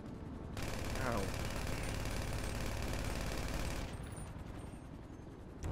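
Rapid fire from a small gun in a video game, a loud continuous rattle of shots lasting about three seconds that then stops abruptly against a background hum.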